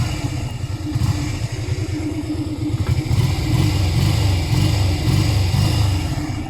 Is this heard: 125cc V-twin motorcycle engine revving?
yes